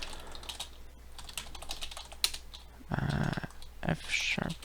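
Rapid, close keyboard typing as notes are written, with a voice briefly speaking over the clatter toward the end.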